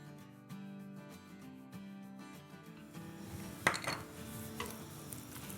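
Garlic paste goes into tomato cooking in a deep pot, with a spoon stirring and scraping amid soft sizzling under light background music, followed by a few sharper clinks against the pot.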